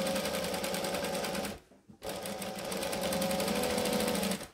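A sewing machine stitches in the ditch along a retro apron waistband, running fast and steady, pausing briefly near the two-second mark, then starting again and running before stopping.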